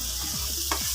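Bitter gourd and onion frying in a pan with a bright, constant sizzle, broken by quick scraping stirs, heard close with no voices.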